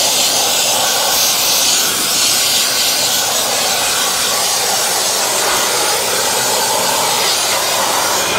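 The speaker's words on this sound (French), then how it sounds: "on va essayer d'aspirer et puis de mettre un peu de vapeur aussi" A steam cleaner hisses steadily and loudly at close range while it works over the fabric interior of a car, a broad continuous rushing noise with no pauses.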